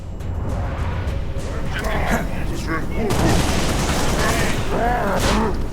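Gunfire rattles in Halo: Reach, with dense bursts and booms of battle filling the scene. Voices speak in French over the steady, loud noise of combat.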